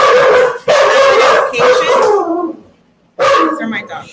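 A dachshund barking at home in sharp, close bursts, three loud clusters separated by a short quiet gap, mixed with someone speaking.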